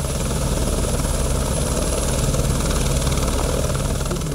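A rescue helicopter evacuates a survivor of a tanker-truck crash to Maceió. Its loud, continuous rotor and engine roar stays close and steady throughout, with no talk.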